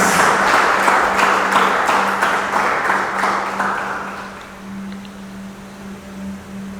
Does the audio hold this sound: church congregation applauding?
yes